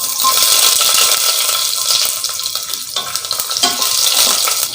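Cumin seeds and small shallots sizzle and crackle steadily in hot sesame oil for a village-style mutton uppu kari, a dense close frying hiss with occasional stirring scrapes and no talking.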